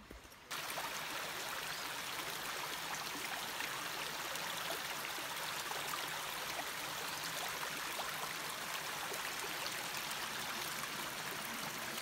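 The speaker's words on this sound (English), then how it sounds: "the sound of rushing water and gurgling water is just so enticing, so relaxing." Steady rushing and gurgling of a nearby stream, a continuous broadband wash of flowing water with no voices.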